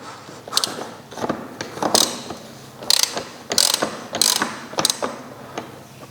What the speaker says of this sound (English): Then I will use the 50 socket to undo the cap in here.